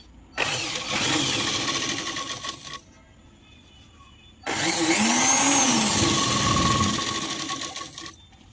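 A domestic sewing machine stitches fabric at a joint while making a petticoat. Two loud, close runs are separated by a quiet gap of a few seconds, with the second run longer than the first.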